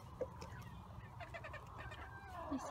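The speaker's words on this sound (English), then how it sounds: "Evil chickens, be nice." Chickens cluck softly at a distance, a few short calls over a low steady background hum, quiet and brief.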